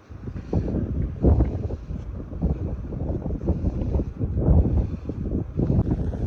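Strong, gusty wind at an outdoor concert site buffets the microphone in a loud, uneven low rumble that surges and eases for several seconds, with no talking.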